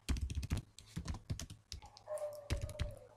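Code being typed on a computer keyboard, rapid clustered key clacks close to the microphone in uneven bursts, with a faint high whine in the background.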